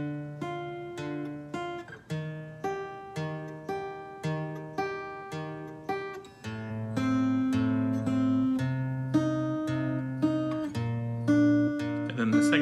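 A picked guitar riff repeats in a steady rhythm of clear plucked notes, then shifts into a fuller, sustained strummed section.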